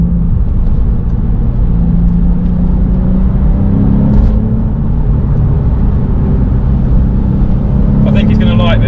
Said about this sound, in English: So it's a bumpy old lane this, and the car feels good even at speed over these bumps.